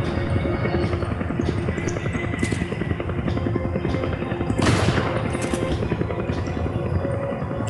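Gunshots ring out in Resident Evil 5, sharp cracks standing out several times over a steady loud drone like a hovering helicopter, with no voices heard.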